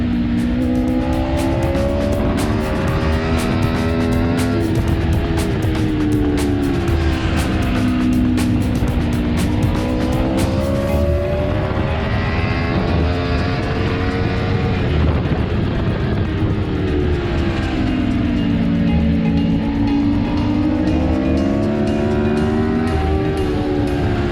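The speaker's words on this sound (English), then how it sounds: "That was another point there where you accelerated, then closed the throttle before the apex." A motorcycle on a trackday circuit, heard from the rider's position, climbs and falls in engine pitch as the throttle opens and closes through corners, loud and continuous with wind noise and no speech.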